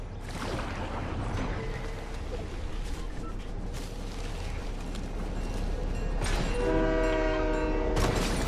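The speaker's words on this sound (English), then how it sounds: "That's a train." A passing train in the video game Fortnite rumbles and clatters steadily, then a loud, sustained horn blares near the end over the rolling noise.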